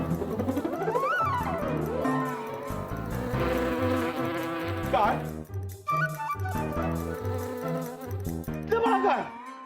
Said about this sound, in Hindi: देखो मधुमती, मधुमक्खी, हमको मत काटो।